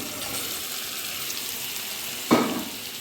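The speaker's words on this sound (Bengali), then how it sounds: "মশলাটাকে ততক্ষণ কষতে থাকবো যতক্ষণ না মশলা থেকে তেলটা ছেড়ে আসছে" Spice paste for a jackfruit chicken curry frying in oil in a pan, a steady close sizzle and hiss throughout, with a sudden louder sputtering burst near the end that slowly settles.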